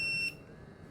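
Alarm of an FX2000 hidden camera and bug detector: a short, sharp high-pitched electronic beep that cuts off abruptly, leaving faint room noise.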